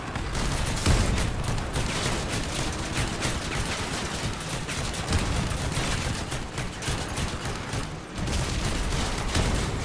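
Shotgun fire in the Crossout vehicle combat video game, with loud heavy blasts crowding together in a continuous barrage over rumbling battle noise and only a brief pause near the end.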